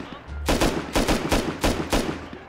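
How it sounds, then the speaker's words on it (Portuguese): Rapid bursts of gunfire from the video game Rust crack out in several quick volleys, loud and close, with short gaps between the shots. "Ele tá dando tiro ali, ó."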